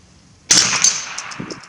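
A single sharp crack from an H&R MC 58 rifle fired at a target, loud and close, followed by a short ringing echo outdoors.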